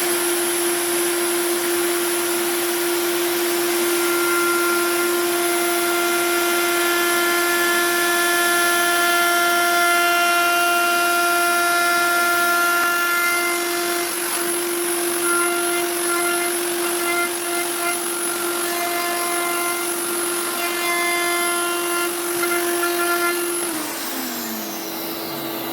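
A workshop vacuum runs loud and steady with a strong whine, while a propeller is routed nearby; the drone holds throughout and winds down at the end.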